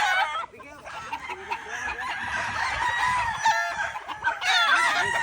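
A rooster on a game farm for fighting cocks crows loudly and close, with a long cock-a-doodle-doo near the start and another toward the end, and softer clucking from other fowl between the crows.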